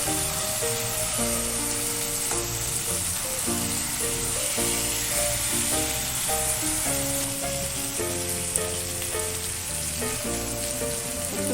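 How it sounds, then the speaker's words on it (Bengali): Jackfruit frying in hot oil with a cooked-down spice masala, a steady close sizzle and crackle that runs unbroken throughout with no talking. "এই যে এবার আমি ইঁচড়টা দেবো, দিয়ে ইঁচড়টা একটু কষে নেবো।"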